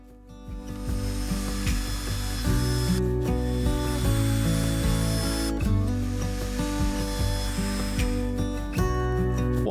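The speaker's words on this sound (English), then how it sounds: "I added a heavy dose of colourant to each batch and then thoroughly mixed each one for around 2" Batches of resin with a heavy dose of colourant being stirred in containers, a continuous scraping, rubbing churn with occasional knocks, close and steady throughout.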